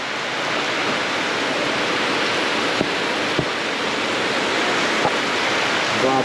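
Heavy rain falling outdoors, a loud, dense, steady roar of broadband noise with no breaks, heard from close by, with a few faint knocks and no clear speech.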